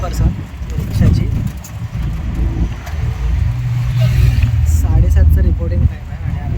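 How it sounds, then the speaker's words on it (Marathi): An auto rickshaw ride from Pune station toward Hadapsar gives a loud, rattling engine drone with rushing wind and road noise that rises and falls, while people talk over it. "आता आम्हाला रिक्षा भेटलेली आहे पुणे स्टेशनवरून"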